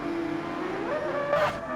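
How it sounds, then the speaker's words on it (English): Rear tyres of a Mazda race car squeal briefly in a Gran Turismo 7 league race as the car nearly loses the rear, a rising screech over steady engine drone ending in a short burst of noise. "Lights up the rear tyres on that Mazda."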